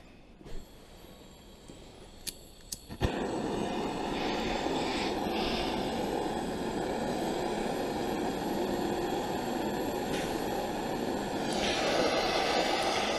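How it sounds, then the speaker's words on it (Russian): A soldering iron for copper gutter soldering switches on and heats up. After a few quiet seconds with faint clicks, a loud, steady broadband roar starts abruptly and holds without a break to the end. "Так, сейчас мы подготовим паяльничек. Мы его включаем."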